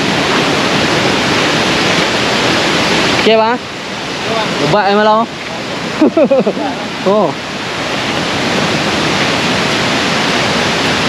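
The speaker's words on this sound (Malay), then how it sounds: "tengok kepala air. Memang tak boleh nak mandi lah ni" Loud, steady roar of a river in flash flood fills the whole stretch, with someone speaking briefly in Malay a few times over it.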